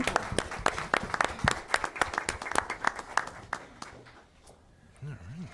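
A room of attendees at a school board of education meeting claps, with separate crisp hand claps in an uneven rhythm that thin out and stop, followed by a brief voice.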